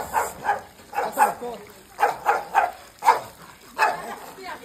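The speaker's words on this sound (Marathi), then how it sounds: "कुत्रा आवडा डेंजर आहे ना लय बॅकर भुकतो तो." A dog at a rural farmyard gate with aseel roosters and ducks nearby barks repeatedly in quick irregular bursts, loud and close, a few yips mixed in.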